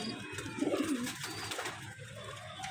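A male and female teddy pigeon pair coo softly at close range, low rolling calls over quiet background hiss.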